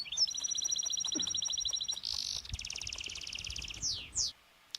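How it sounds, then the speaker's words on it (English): Small birds sing close by and clearly, with rapid trilled runs of repeated high notes, then a buzzy burst and a few quick sweeping calls before the sound cuts off. "These birds are great."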